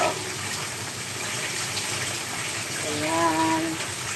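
Water runs steadily from a tap while tilapia fish is washed, a continuous close gushing with a brief tonal gurgle near the end.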